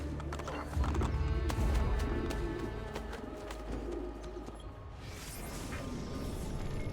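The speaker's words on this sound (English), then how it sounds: "Horse, come here." Horse hooves clop along with a neigh in Assassin's Creed Brotherhood, mixed with bird coos and background game ambience, moderately loud with no speech.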